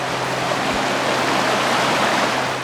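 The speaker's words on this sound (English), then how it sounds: "The sound of running water for a Phoenician is something special." Steady rushing water pours over a paved crossing on a desert backcountry road in Arizona and forms a small rapid, a constant broadband wash heard up close with no pauses.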